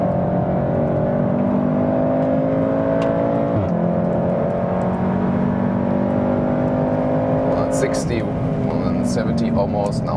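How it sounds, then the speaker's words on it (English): A Volkswagen Golf R facelift (310 hp, AWD) drones steadily with a deep exhaust note on a racetrack, its pitch rising and falling as it accelerates, loud and close throughout. "And the sound is even better, I think, from the exhaust."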